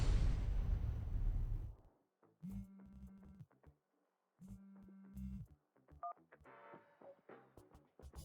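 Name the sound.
telephone dialing tones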